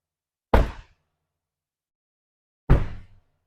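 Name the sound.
vehicle door closing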